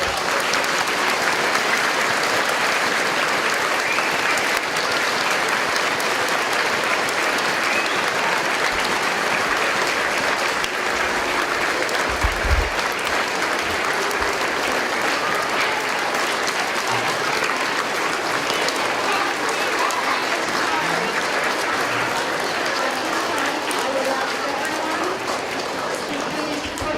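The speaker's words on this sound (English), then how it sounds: "Could we please have a round of applause" An audience at a school Veterans Day ceremony applauding veterans, sustained dense clapping from a large crowd lasting the whole stretch, steady and loud with a few low bumps.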